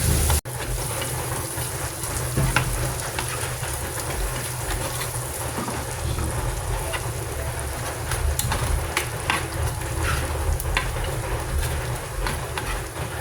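Garlic frying in butter for buttered shrimp gives a steady, close sizzle that runs the whole time without pause, loud and even with small crackles, and nobody talks over it.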